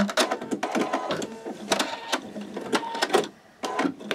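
An embroidery machine stitching a peel-and-stick stabilizer greeting card runs in quick rhythmic bursts, pauses briefly as it trims the thread, then resumes stitching close and steady.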